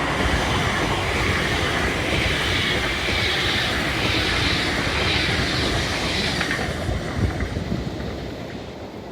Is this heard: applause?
no